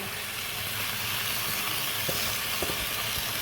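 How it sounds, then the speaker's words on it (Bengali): Banana flower and prawns with potatoes and spices stirred in a frying pan, a steady close sizzle with a few faint scrapes of the spoon. "এইভাবে করে সব মোচা দিয়ে এবার নেড়ে চেড়ে নেব ভালোভাবে"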